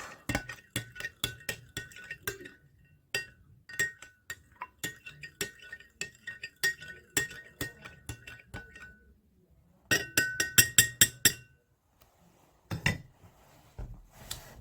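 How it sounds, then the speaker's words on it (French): A spoon clinks repeatedly against a glass while stirring a mixture until it dissolves, in bursts of quick close metallic taps with short pauses between. "on mélange jusqu'à ce que le tout soit dissous"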